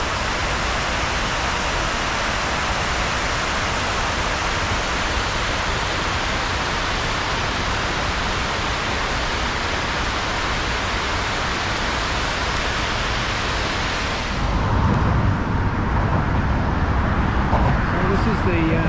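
Steady broadband rush of wind and distant roadway traffic from midway across the Brooklyn Bridge in New York, constant and enveloping throughout, with the texture shifting slightly to a rougher gust near the end.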